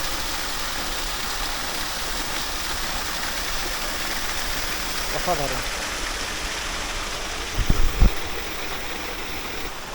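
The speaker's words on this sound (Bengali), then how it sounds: "দেখুন এই ওপরের জলটা এসে এখানে পড়ছে, পড়ে আবার বেরিয়ে যাচ্ছে" A monsoon-season waterfall at Dhangikusum near Belpahari, Jhargram, pours onto rocks with a steady, full rushing roar throughout. A voice speaks briefly, and a couple of knocks sound near the end.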